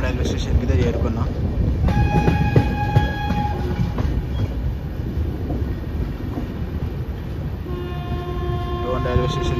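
A train pulls into Don Junction railway station on the Kurnool–Visakhapatnam route, with steady rumbling and clattering of railcars, plus sustained horn or brake tones near the start and again toward the end, all close and loud throughout.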